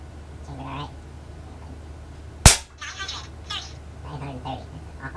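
A single sharp, loud shot from an Air Venturi Avenger .25 caliber air rifle firing Diablo Kings pellets cracks out mid-clip, with someone talking quietly before and after it.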